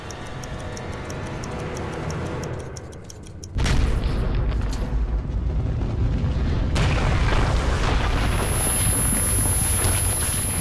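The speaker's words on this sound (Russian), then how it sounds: "Взрыв, конечно, не такой реалистичный" A sudden, loud, booming explosion from the video game Metro 2033 Redux cuts in after a quieter stretch of ticking. A dense, sustained roar follows and stays loud through the rest of the clip.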